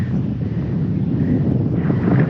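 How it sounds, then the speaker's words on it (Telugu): Wind blowing across an open hilltop in hot sun, a steady, loud, rumbling gust noise buffeting the microphone throughout, with no voices. "ఇదే వ్యూ, మంచి గాలి వేస్తుంది ఇక్కడ ఇంత ఎండలో కూడా"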